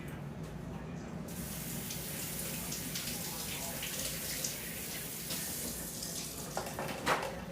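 Fresh raw corn rinsed under a running kitchen tap, a steady close splashing stream of water with small drips and spatters, continuous throughout without talk.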